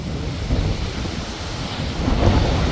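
Strong wind roars across an open hilltop at Male Mahadeshwara Hills, a loud, constant buffeting rush that batters the microphone with no pauses and no voices.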